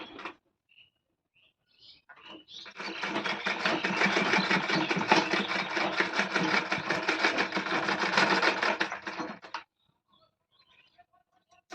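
A sewing machine stitches a dress sleeve in a single sustained burst, a loud close rattling whir lasting several seconds before stopping abruptly, with quiet moments before and after.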